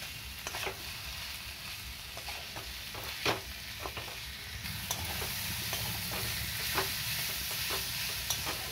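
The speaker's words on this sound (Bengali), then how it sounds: "এবার এর মধ্যে কুঁদরি এবং আলুটা দিয়ে দেব। এবার মশলার সাথে খুব ভালো করে মিশিয়ে নেব।" Ivy gourd and potato pieces are stirred with spices in a pan, giving irregular scraping and knocking strokes over a steady background sizzle, fairly quiet and close.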